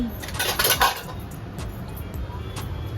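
Ground spice paste (vaatan) being added to a cooking pot, with metallic clinks and scrapes of a utensil against the pot, loud at first and then softer, with faint low background noise.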